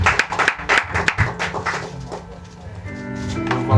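A church congregation clapping in praise during a Saturday service, several sharp rhythmic claps at the start that fade into a hum of sustained tones and quieter ambience.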